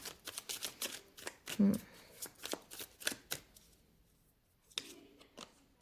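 Tarot cards are riffled and shuffled in a run of quick, crisp papery flutters, then a softer card snap after a short pause, close by and fairly quiet.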